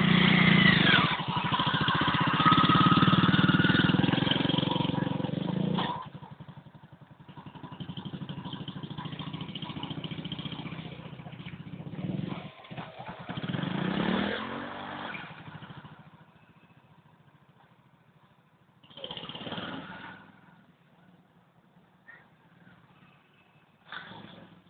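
A motorcycle engine runs close by, its mid-pitched drone swelling and easing over about twenty-five seconds, dropping away in the middle and returning in shorter bursts before settling low.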